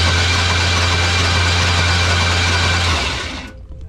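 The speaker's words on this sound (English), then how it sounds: "That's a pretty good starter right there. She is turning and burning." An abandoned 1980s Chevrolet C10 engine cranks steadily on its starter with a loud, continuous whirring drone up close, then cuts off abruptly near the end.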